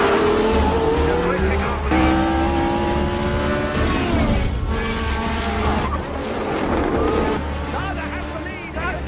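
Formula 1 race cars, including the number 12 McLaren, roar past with high revving engines and squealing tyres, loud and continuous, under excited commentary.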